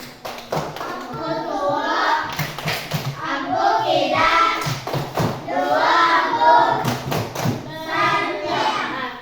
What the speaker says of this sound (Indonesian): Tepuk jempol lagi.